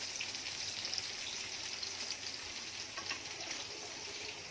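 Mutton mandi ingredients frying with rice in a mix of butter and oil give a faint, continuous crackling sizzle, with no talking.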